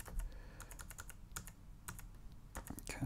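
Keys on an Amiga 600 computer keyboard are pressed in quick, irregular bursts of sharp clicks, close and clear with no talking over them.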